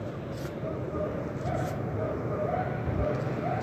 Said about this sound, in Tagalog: naririnig mo dito, bukas kasi ang bintana, may mga nag-iingay ng mga aso